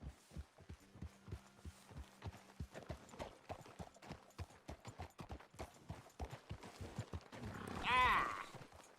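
Horse hooves clip-clopping at a steady walking rhythm in the video game Red Dead Redemption 2, close and fairly quiet, ending with a brief louder burst that may be a horse's whinny.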